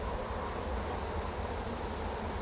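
Honey bees swarm and buzz in a dense, steady drone at an opened, agitated hive, the sound continuous, close and fairly loud with no voices.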